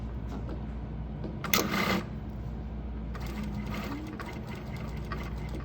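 A sewing machine topstitches around the edge of a shirt cuff, its steady mechanical whir running continuously at close range, with a brief louder burst partway through and a busier, rattling stretch toward the end.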